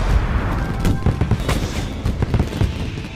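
Big firecrackers burst over a city in a dense, continuous barrage of sharp cracks and booms, overlapping loudly with no pause.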